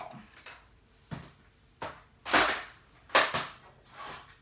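A die cutting machine pressing through card for a handmade tropical seashell greeting card, giving a few loud, sharp clacks and thumps at irregular intervals, each a short crunching burst, close by with no talk over them.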